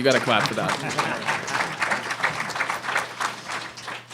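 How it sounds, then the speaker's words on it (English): An audience claps for a speaker at a talk, uneven applause that starts strongly and then thins, with voices talking over it. "Yeah, you got to clap for that."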